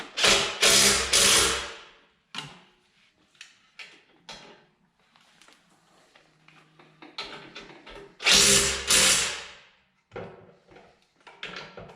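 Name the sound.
power tool tightening Jeep winch mounting bolts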